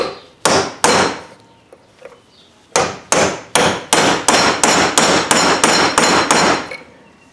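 Loud metallic hammer blows hammering out a BMW rear wheel bearing ring out: two strikes, a pause, then a steady run of about ten evenly spaced heavy hits.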